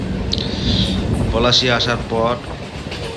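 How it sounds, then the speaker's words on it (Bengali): A local train running and slowing on its approach to Palashi station, a steady rumble with faint rail clatter and hiss under continuous nearby talk. "ট্রেনটা দেখুন আস্তে আস্তে স্লো হয়ে যাবে"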